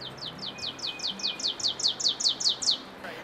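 A warbler sings high in the treetops, a rapid series of about a dozen high, buzzy descending notes, clear against quiet background hiss.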